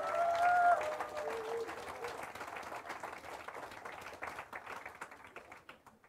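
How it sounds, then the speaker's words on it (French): Church congregation applauds visitors, a moderate round of clapping from many hands that tapers off, with a brief voice at the start. "Est-ce qu'on peut les applaudir, s'il vous plaît?"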